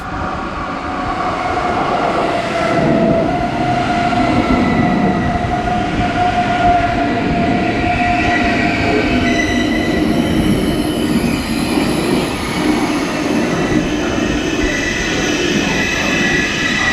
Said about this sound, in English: Here we are reaching the station of Düsseldorf, and here we are leaving our train